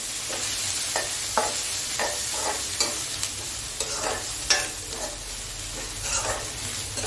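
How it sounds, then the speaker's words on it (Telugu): Chicken curry masala with added colour mixed in a pan: repeated spoon scrapes and stirring strokes over a continuous frying sizzle, close up with no voices. "కలర్ వచ్చేసి చూడండి ఇలా మిక్స్ చేయాలి"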